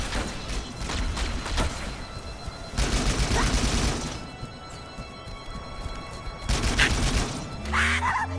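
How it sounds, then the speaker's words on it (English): Enemy gunfire in a Halo campaign battle: repeated bursts of rapid shooting and impacts come in several loud volleys separated by quieter stretches, with crashes and battle noise between them. "They shoot at me, sucker!"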